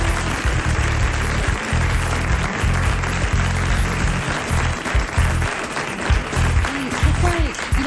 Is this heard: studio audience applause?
yes